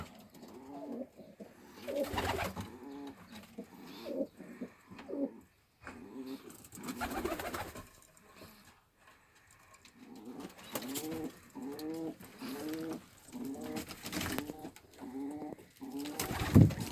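Pigeons in a coop coo repeatedly in low, throaty rolling calls, close by, with several birds overlapping and short pauses between bursts.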